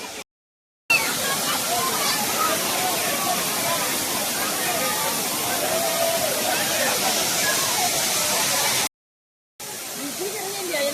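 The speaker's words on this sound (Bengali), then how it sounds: "ওয়াটারফল" Rushing water at Thirparappu Waterfall in Tamil Nadu roars as a loud, continuous broadband wash for about eight seconds, with brief dropouts before and after.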